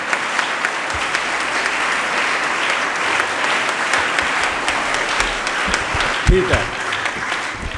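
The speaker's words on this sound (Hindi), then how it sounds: "एक बार जोरदार तालियां राज जी के लिए बजा दो।" An audience of children gives strong applause for Raj ji at a motivational talk, dense clapping that continues for several seconds while someone briefly speaks over it.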